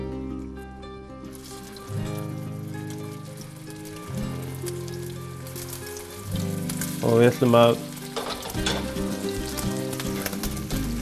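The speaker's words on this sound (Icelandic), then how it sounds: "Og við skellum bollunum á." Meatballs frying in boiling hot oil in a pan give a steady sizzle that runs under loud music, with a brief spoken voice near the start.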